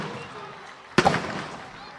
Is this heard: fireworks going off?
yes